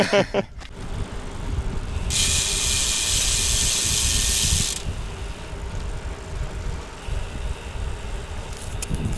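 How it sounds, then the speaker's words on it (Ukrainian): Loud ratcheting buzz from the freewheel hub on a Pride Jet Rocx carbon gravel bike, a steady bright rattle for a few seconds amid low outdoor rumble, with a brief clatter at the start. "Гучне ЖКЗ колесо, капець."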